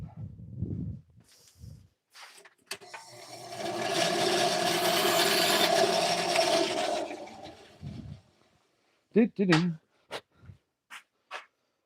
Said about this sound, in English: I'm gonna get this trimmed back. Hit up the bandsaw.